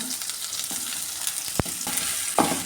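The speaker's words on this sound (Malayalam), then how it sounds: "ഇനി ഇതിലേക്ക് ഈ സവാളയും കറിവേപ്പിലയും കൂടെ ഇട്ട് കൊടുക്കാം" Onion and curry leaves frying in hot oil for a papadam curry produce a close, continuous sizzle broken by a few sharp clicks from stirring, with no voices.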